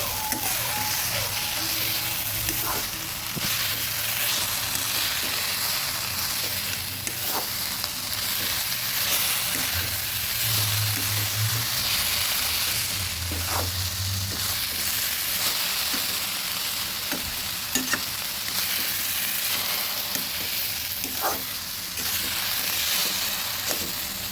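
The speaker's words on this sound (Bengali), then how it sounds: "বারবার করে নেড়ে ভালোভাবে ভেজে নিতে হবে।" Hilsa fish head frying in a pan, a steady close sizzle with intermittent scraping and stirring clatter running throughout.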